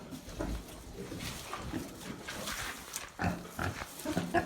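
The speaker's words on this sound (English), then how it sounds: "Oh, hello, pig." A pig on a farm gives a few short grunts and snorts against a rustling, busy barn background, close and moderately loud, with a louder cluster of grunts toward the end.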